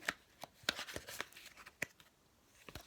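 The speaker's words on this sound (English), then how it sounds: "Sometimes the cards will pop up when I'm shuffling." A deck of tarot cards is shuffled by hand, producing quick irregular papery snaps and riffles, close and fairly quiet, with no talking.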